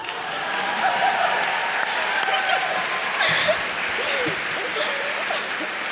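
Audience at a college lecture applauding and cheering as the guest lecturer is welcomed on stage, a dense, continuous wash of clapping with scattered whoops and voices throughout.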